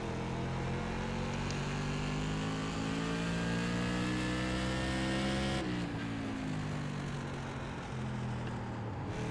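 Simulated NASCAR Modified race car engine in iRacing, a loud continuous drone with steady harmonic bands that rise and fall as revs build, then drop off-throttle through a corner, with no talk over it.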